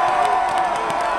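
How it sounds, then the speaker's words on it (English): A crowd cheers and shouts for a marathon team in a brief loud burst, dense voices and whoops blended into a continuous roar. "let's get the marathon team a big cheer"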